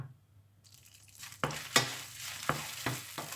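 Chilies fry in oil in a pan while being stirred, a quiet start giving way to crackling sizzle and several sharp scrapes of a utensil against the pan, close and fairly faint, with no talking.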